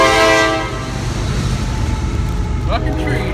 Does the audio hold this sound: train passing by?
yes